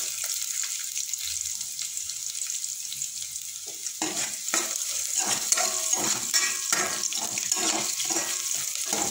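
Garlic and onion fry in a pan: a soft hiss at first, then a louder crackling sizzle with stirring clatter after a few seconds, steady and close, no talk.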